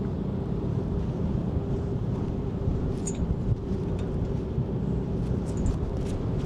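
Wind buffets the microphone during a boat ride across Sydney Harbour, a steady low roar with rushing gusts throughout and faint higher clatter now and then.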